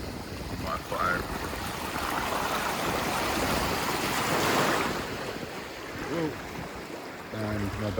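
Ocean waves break on a beach in Lanzarote, a broad rushing surge that swells and fades over several seconds, heard close with wind buffeting the microphone and brief voices in the background.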